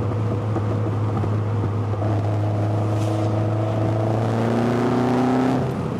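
A car engine revving as the car pulls away, a loud close drone with harmonics that rise in pitch as the revs build, steady and without talking.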